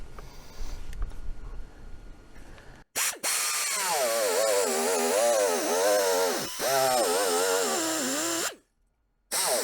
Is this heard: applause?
no